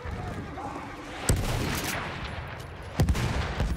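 Explosions and gunfire from a Battlefield 1 Rush match, with two sharp heavy blasts standing out over a constant dense roar of distant battle noise.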